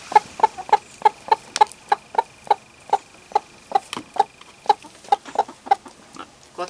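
Chickens, new hens mixing with older ones, cluck outdoors in a steady run of short, sharp, close clucks spaced about every quarter second, fairly loud and clear, with no talking.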